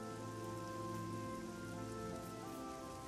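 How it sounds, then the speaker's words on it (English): Steady rain pours down in The Elder Scrolls IV: Oblivion near a Daedric shrine, a dense, even hiss of drops on surfaces filling the whole stretch, with low game music underneath. "Because it's raining."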